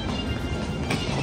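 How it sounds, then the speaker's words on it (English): Steady rumbling of an airport train carrying passengers to Terminal E, a continuous close mechanical drone with no voices over it. "right now we're taking a train to Terminal E."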